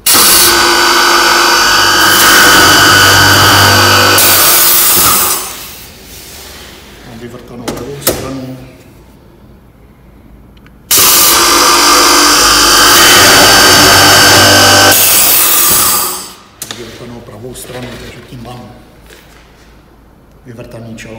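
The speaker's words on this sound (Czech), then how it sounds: "Tak, a teď už můžu vrtat." A Blum Minipress Pro drilling machine bores holes in a cabinet drawer front, with two loud whirring runs of about five seconds each and clunks and handling noises between them.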